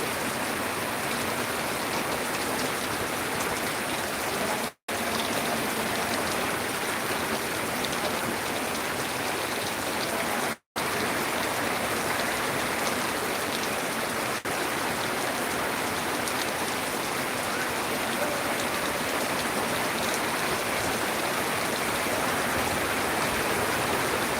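Steady rain pours down outdoors over a vegetable patch where brinjals are being picked, a dense even hiss lasting throughout with two brief dropouts and no voices.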